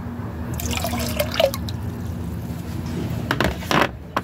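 Collected rainwater poured and splashing into a container outdoors, a steady wet trickle with scattered drips and a few brighter splashes near the end, close and moderately loud.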